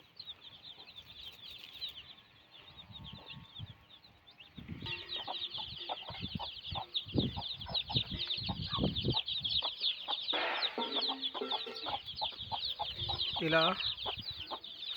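A mother hen clucks softly and steadily among her 19 chicks, three days old, at a goat farm, while the chicks keep up dense high peeping and someone speaks briefly.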